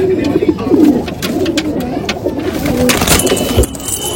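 Malwai pigeons, an original Punjabi breed, coo repeatedly at close range, with overlapping low throaty calls and some background clatter; no talking.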